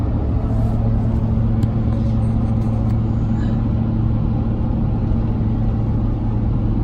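A K1500 truck fitted with a Flowmaster muffler idles with a loud, steady, deep exhaust rumble that holds evenly throughout, close by and without talk.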